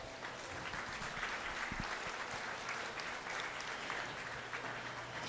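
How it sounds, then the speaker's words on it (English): A steady round of applause from the audience at a county fair beef show, dense clapping filling the space evenly throughout with no voices over it. "If everybody could give this group of kids a nice round of applause."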